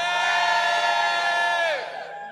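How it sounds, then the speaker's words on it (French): A church congregation lets out a loud, sustained collective shout of joy, a dense wall of voices holding for about a second and a half before trailing off. "Poussez un cri de joie."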